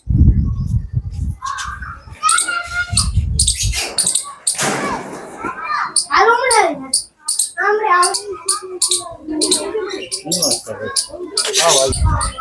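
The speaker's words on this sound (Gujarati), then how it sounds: "સુંદર મજાના પોપટ નાના નાના કલર કલરના" Small colourful parrots and sparrows chirp inside a wooden bhunga-style enclosure at Anjar in Kutch, bursts of high tweets scattered among frequent nearby talking.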